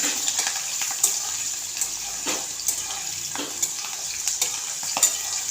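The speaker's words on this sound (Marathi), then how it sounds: "तेल चांगलं तापले त्यामुळे पटकन भाजून होईल." Green chillies fry in well-heated oil for upma, giving a steady close sizzle with scattered sharp pops and crackles throughout and no talking.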